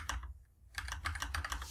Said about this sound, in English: I'm just typing them in and typing in the frequencies that are 2, 3, 1, 4, 0, 4